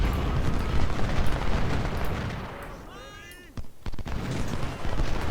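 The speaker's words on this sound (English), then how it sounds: "Loomis is taking heavy artillery fire" Heavy cannon and artillery fire booms across a Civil War strategy game battlefield at Gaines' Mill, a dense rumbling barrage with sharp nearby blasts and whistling shells, briefly dipping before loud impacts resume.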